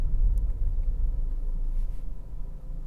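A 2024 BMW X2 xDrive20i pulling away from a stop, a deep, steady engine rumble heard from inside the cabin that stays low and even throughout.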